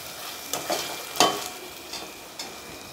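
Boiled prawns fry in hot oil for a Telugu prawn fry, a steady sizzle broken by a few sharp stirring scrapes and crackles, close and fairly quiet, with no talking.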